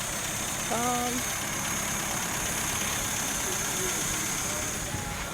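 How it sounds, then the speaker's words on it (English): A Peugeot 505 ST's freshly rebuilt engine idles with a low, steady hum, while a brief whistle-like tone and faint background sounds pass over it. "So far the engine is still running."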